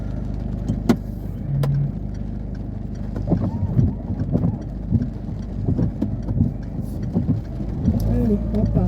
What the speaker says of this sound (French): Peut-être que vous allez entendre plus le moteur encore où vous êtes là.